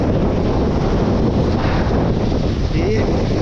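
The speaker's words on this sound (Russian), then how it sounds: "Здесь прям очень сильный ветер, так дует он." Strong wind roars and buffets the microphone without letup at a stormy Crimean seaside, a loud, constant rush with the sea faintly underneath.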